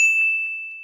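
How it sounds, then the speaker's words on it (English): A single clean bell-like ding strikes once and rings out as a pure tone, fading gradually over under a second. "ding"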